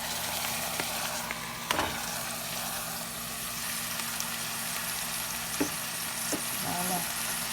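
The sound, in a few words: smoked fish sizzling as it is fried in a pan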